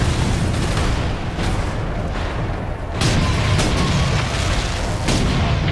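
Bombs exploding in the Space Marines video game, a dense continuous barrage of heavy booms and blasts with several sharper impacts rising out of the loud, rumbling din.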